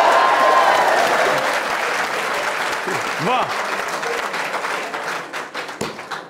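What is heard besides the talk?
audience clapping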